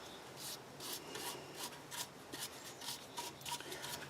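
Hand rubbing shellac finish onto the outside of a turned madrone crotch wood vase, a steady series of soft, close swishing strokes in an even rhythm, quiet with no one speaking.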